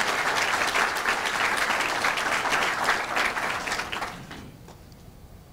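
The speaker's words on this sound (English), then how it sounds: "So if you can just give a round of applause to my friend." An audience gives a warm round of applause for a friend, dense clapping holding steady before tapering off into near quiet at the end.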